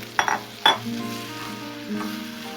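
Sauce splashes onto chicken tantuni filling in a pan with two quick sharp clinks, followed by a sizzling hiss as the mixture is stirred.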